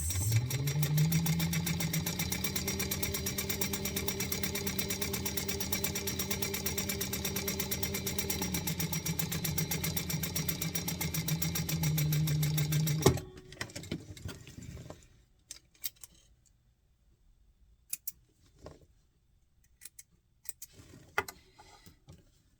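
A home sewing machine stitches steadily for about thirteen seconds with a fast, even mechanical whir, then stops and gives way to quiet, sparse clicks and taps as the fabric is readjusted.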